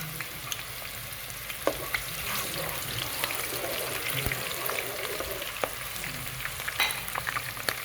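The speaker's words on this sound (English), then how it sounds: "here is my oil. It's all heated up now. We just go ahead and add in some onion, roughly sliced." Roughly sliced onion frying in hot oil for a Nigerian stew gives a steady, close sizzle, with scattered sharp clicks and taps from stirring throughout, and no talking.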